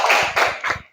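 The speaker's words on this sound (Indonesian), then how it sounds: "Benar sekali, tepuk tangan." Classroom of children clapping in a short burst of applause, a dense, bright patter of many small hands with brief dips in between, close and fairly loud.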